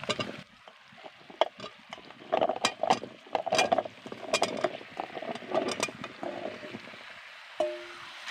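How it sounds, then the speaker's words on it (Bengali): Cut pumpkin and potato are tipped into a pan of fried spices, making a run of clattering knocks and scraping stirs at close range, ending with a brief low tone. "মশলা আমার কষানো হয়ে গেছে এবার দিয়ে দিচ্ছি আমি কেটে রাখা কুমড়ো আর আলু"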